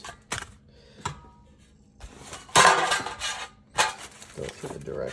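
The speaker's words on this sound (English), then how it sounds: "Grab our super pans." Metal cooking pans for a Suvie countertop cooker clink and clatter in a kitchen, a few sharp knocks and a longer rattling handling burst, close by, with light talk around them.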